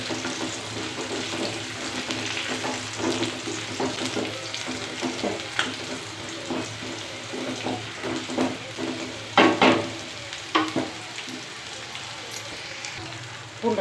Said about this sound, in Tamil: பூண்டு நல்லா வதங்கிடுச்சு.